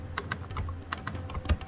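Keystrokes on a computer keyboard as a network configuration command is typed: a quick, uneven run of sharp clicks and taps, close and fairly clear, with no talking.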